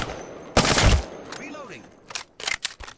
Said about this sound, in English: Friends, opening fire on the enemy.